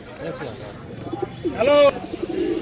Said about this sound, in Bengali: একদম গরম ডাক, নর কিরম অ্যাক্টিভ দেখতে পাচ্ছেন খাঁচার ভেতরে ডাক করছে পায়রাটি।